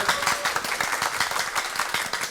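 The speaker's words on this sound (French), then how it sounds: "Applaudis, applaudis, applaudis, applaudis." Audience at a school quiz contest between two lycées breaks into steady, dense applause, many hands clapping together at close range, sustained for a couple of seconds with faint voices mixed in.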